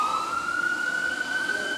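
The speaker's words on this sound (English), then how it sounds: "Sirens signal help is on the way" A steady wailing siren tone holds over low traffic rumble, sounding moderately distant and continuous throughout.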